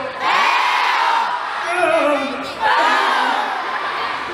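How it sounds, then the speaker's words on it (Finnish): A live show audience of young voices shouts together in unison, two loud bursts of yelling and whooping close by, with a short lull between. "Kaikki huutaa heiu!"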